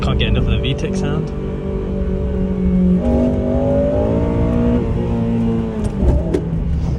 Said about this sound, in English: Just can't get enough of the VTEC sound.